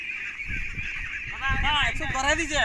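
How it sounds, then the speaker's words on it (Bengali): Loud honking quacks from white domestic ducks on a duck farm, several calls in quick succession, nearby, with a faint voice in the background. "এই সাদা সাদা হাঁস"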